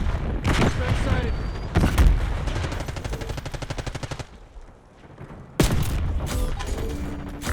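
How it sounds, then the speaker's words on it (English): A flashbang grenade goes off in a Call of Duty Black Ops 6 multiplayer match, sharp bursts and rapid gunfire cracking loudly, then a short lull before another heavy blast, with a game announcer voice talking over it. "Incoming grenade. Flashbang sighted."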